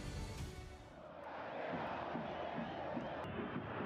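A raucous football stadium crowd in Mexico City roars at a cup semifinal, a broad sustained swell of voices that rises after the first second and stays loud but somewhat distant.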